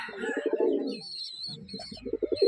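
Silver-coloured Ablak pigeons coo close by in two bursts of rolling, pulsing calls with a short pause between them, and a faint higher chirp comes through in the gap.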